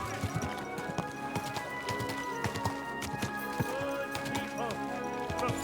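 Horse hooves clip-clopping in the video game Kingdom Come: Deliverance 2, a steady trotting rhythm heard under town ambience and game voices, fairly quiet.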